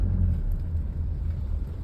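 Inside a car riding toward a stadium for a wedding, a steady, loud low engine and road rumble fills the cabin with no voices, droning evenly throughout.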